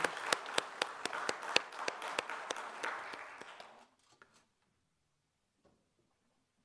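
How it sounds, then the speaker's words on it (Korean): Church congregation applauding during a Sunday worship service at Ulsan Gangnam Church, a patchy round of separate claps that runs about four seconds, then fades to near silence with a few stray claps. "영광의 박수 올려드리겠습니다"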